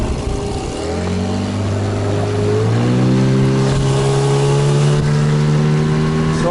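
A motorboat engine on a taiga river climbs in pitch as the throttle opens, a loud, close whine rising smoothly over several seconds, then holding high with water and wind noise beneath.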